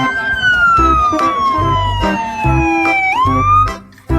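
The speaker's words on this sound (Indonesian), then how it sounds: "Yang ini ada mobil ambulan lagi." A toy ambulance siren gives a loud, close electronic wail that slides slowly downward, then jumps back up, over low thumps and knocks from handling the toy.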